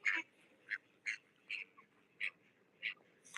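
Seven short, nasal duck quacks repeat at a steady pace over faint background noise, close and moderately loud.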